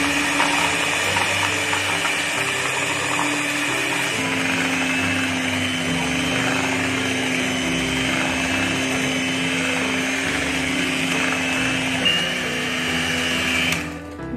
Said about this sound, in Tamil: நான் எலக்ட்ரிக் பீட்டர் யூஸ் பண்றேன் இன்னைக்கு